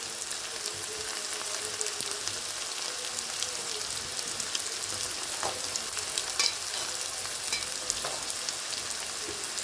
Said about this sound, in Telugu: వేగిపోయింది చూసారా, ఎంత 2 minutesలోనే వేగిపోయింది.